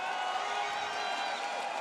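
A dense, steady roar from a large arena crowd cheering after a round at a VCT Masters London Valorant esports match, continuous and loud with no breaks.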